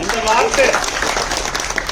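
Applause from a conference audience, a broad wash of clapping that runs under prominent speech and thins toward the end.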